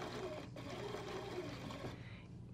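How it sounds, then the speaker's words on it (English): A sewing machine stitches broadcloth for a continuous lap placket, running in a steady, close, continuous whir with no voices. "So I'm going to start stitching"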